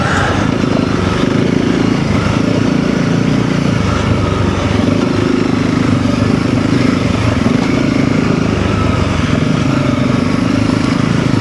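A Honda CRF300L and a KTM 390 Enduro R ridden off road on a trail, a continuous loud single-cylinder engine drone holding steady throughout with no break.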